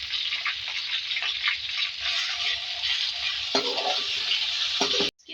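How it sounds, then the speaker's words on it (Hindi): Garlic sizzles steadily in hot oil in a pan, a dense continuous frying hiss with occasional stirring scrapes, then stops abruptly at the end. "लहसुन ऐड करेंगे इसके अंदर आप। तो फ्राई कर लेंगे"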